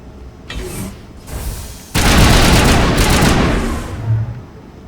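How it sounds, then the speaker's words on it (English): Pulse rifle fire in the game Mass Effect: Legendary Edition, loud bursts of rapid gunfire with booming impacts, a short burst first then a longer sustained volley fading out. "Oh, she's still using that pulse rifle."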